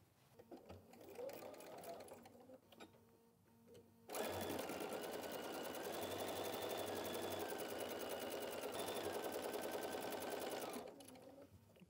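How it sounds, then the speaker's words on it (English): A sewing machine stitches a half-inch seam on a fabric basket, running in one steady, loud burst for about seven seconds after a few quiet handling sounds, then stopping. "I'm gonna take this to the machine and I'm gonna sew from here to here, half inch seam allowance"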